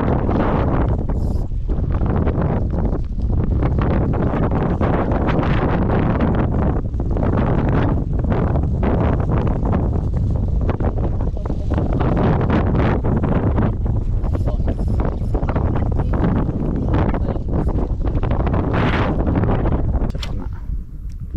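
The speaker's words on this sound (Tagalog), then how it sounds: "kumakalmada din yung hangin" Strong wind buffets the microphone on a fishing boat out on open water, a continuous loud roar with gusty surges and rustling throughout, no voices clearly heard.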